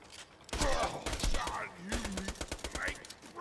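Rapid bursts of gunfire in the video game Tiny Tina's Wonderlands, sharp repeated shots close and loud over layered game effects and background voices.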